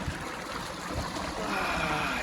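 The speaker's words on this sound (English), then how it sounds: "I found this little waterfall here" Small waterfall at a creek crossing on a high-country backpacking trail, a steady broadband rush of falling water, close and continuous, growing slightly louder toward the end.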